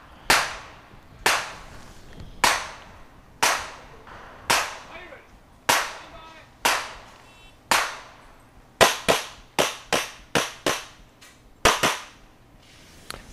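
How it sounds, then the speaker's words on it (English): Pistol gunshots crack during a USPSA practical shooting match stage, sharp loud reports, first spaced about a second apart, then a faster burst of quick shots near the end, with no talk between them. "So I took 8 shots"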